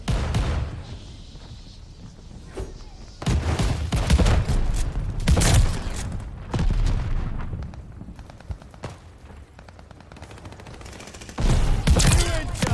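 Combat shotgun blasts from Call of Duty Vanguard multiplayer, heavy booming shots arriving in separate bursts, some single and some in quick clusters, loud and close over game background noise.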